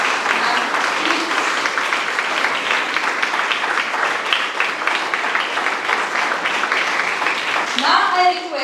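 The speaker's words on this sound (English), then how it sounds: "Please give a huge round of applause for her." An audience at a school science quiz competition applauds with loud, dense clapping that holds steady for about eight seconds, close and continuous.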